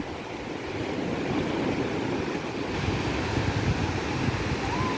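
Sea surf washing steadily onto a beach in Odesa on the Black Sea, a continuous broadband wash with some wind noise, no speech.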